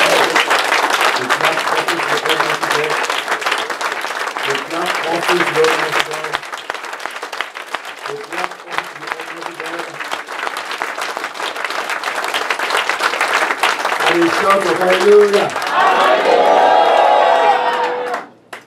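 A church congregation gives a clap offering, with sustained loud applause and scattered cheers filling the room, swelling near the end before cutting off abruptly.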